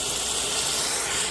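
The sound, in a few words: steam hissing as water is poured into hot Instant Pot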